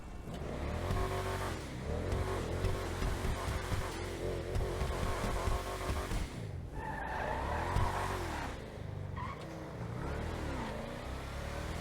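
Ubermacht Rebla GTS SUV engine in GTA Online revving and accelerating through gear changes, with rising and falling engine pitch and bursts of tire squeal, loud and continuous with no talk.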